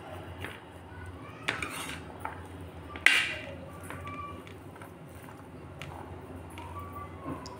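Utensil scraping and clinking against a bowl as iftar snack ingredients are stirred together, a soft, steady mixing with occasional sharper taps and one louder knock midway.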